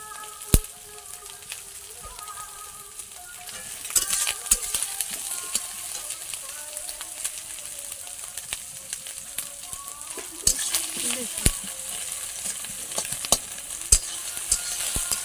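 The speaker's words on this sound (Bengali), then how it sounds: "কাঁচকলা আলু দিয়ে মাছের বীজের ভাজা করছি" Raw banana, potato and fish roe fry in oil, a steady crackling sizzle with sharp pops and spatters, growing busier midway as pieces are stirred and turned, close and alone.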